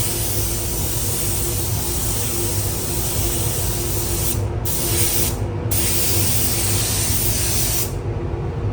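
A spray gun sprays liquid wrap onto a Ford Focus ST in a spray booth, giving a loud, steady close hiss that cuts out in short breaks between passes, with no talking.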